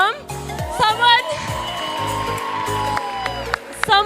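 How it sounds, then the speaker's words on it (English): A TEDx youth event audience cheers and claps for Adam, with whoops and crowd noise rising over background music and a voice speaking through the burst. "let's give a round of applause for Adam"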